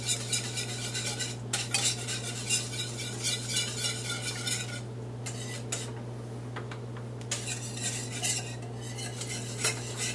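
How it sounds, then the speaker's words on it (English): A whisk scrapes and clinks steadily against a pot of smoky chipotle buffalo wing sauce as it heats toward a simmer, a close, continuous metallic stirring with no talk over it. "We'll just keep whisking this until it comes up to a little bit of a simmer."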